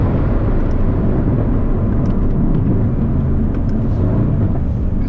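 A Mercedes C63 AMG with turbocharged engine accelerating hard on a road, a loud, dense, low engine roar held throughout without pause, heard close from inside or near the car.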